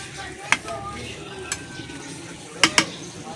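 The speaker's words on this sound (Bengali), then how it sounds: "ঝোলটা ফুটছে" A curry made with ground spice paste and country chicken bubbles in a pot after water has been added. A soft simmering hiss runs beneath a few sharp clinks of a spoon against the pot.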